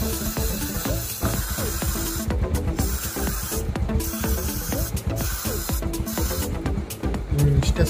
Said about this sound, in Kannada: ಈಗ ಚೈನ್ ಸ್ಪ್ರೇ ಮಾಡ್ಕೊಂಬಿಡೋಣ ಬನ್ನಿ.